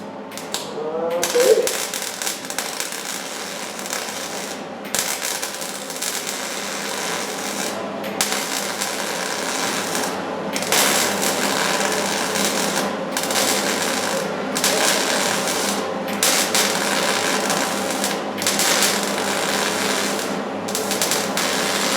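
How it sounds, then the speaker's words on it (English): MIG welding to fill holes in a 1931 Ford chopped coupe frame: a steady, close crackling buzz running nearly continuously, broken by short pauses between welds. "Just welding up holes."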